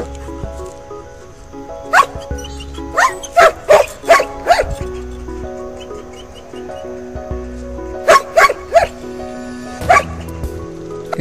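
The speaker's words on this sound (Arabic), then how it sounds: "نباح المنخفض اقرب للصفير" A dog lets out a series of short, high, whistle-like yips and whimpering barks in two clusters, close and fairly loud, with gaps of quiet between them.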